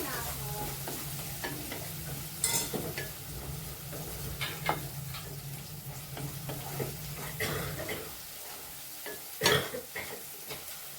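Food stirred in a frying pan with scraping utensil strokes and occasional sharper clinks over a steady low sizzle that drops away near the end.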